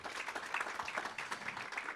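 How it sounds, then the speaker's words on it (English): Faint applause from a conference audience at a national planning awards event, an even patter of many hands clapping steadily throughout, distant and soft. "Can we clap for him in absentia?"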